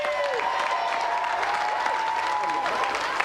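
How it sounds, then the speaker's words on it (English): Studio audience on the GamesMaster TV show applauds after a Carl Lewis sprint attempt, a steady, dense wash of clapping that fills the whole stretch at moderate level with faint tonal game sounds running underneath. "Round of applause for Carl."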